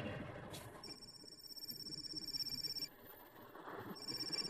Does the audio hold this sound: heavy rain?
no